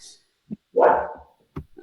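A dog lets out a single fairly close bark, with a couple of small short sounds before and after it and a faint voice-like trace.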